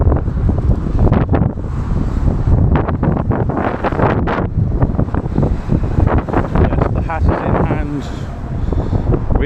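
Strong gusty wind on the hilltop Aleksotas Observation Deck in Kaunas, Lithuania, buffets the microphone in heavy, continuous roaring blasts, loud and close, with a voice partly buried beneath it.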